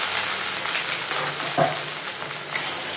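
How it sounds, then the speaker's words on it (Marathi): Garlic and ginger fry in hot oil with a steady, moderate sizzle and a faint clink of a utensil partway through. "हे बघा इथे तेल छान तापलेलं आहे आता त्याच्यामध्ये आपल्याला लसूण"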